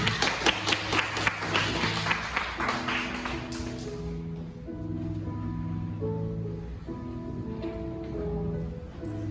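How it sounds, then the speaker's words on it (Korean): An audience at a church high-school youth worship service claps for about four seconds, the claps mixing with music, before the clapping fades and the music carries on alone. "박수로 맞아주시기 바랍니다"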